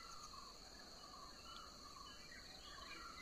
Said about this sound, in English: You could hear the birds chirping, probably hear peacocks in the background.